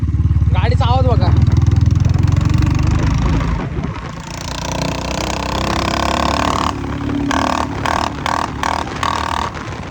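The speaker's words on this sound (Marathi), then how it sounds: "गाडीचा आवाज बघा." A motorbike engine runs steadily while riding toward a college, a loud continuous drone with rushing wind, a voice talking over it early on and the engine note breaking into choppy bursts near the end.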